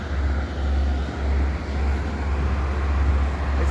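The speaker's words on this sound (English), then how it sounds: "I'm walking past a car wash" A steady roadside roar from a car wash and passing traffic beside the road, loud, continuous and close throughout, with no talking.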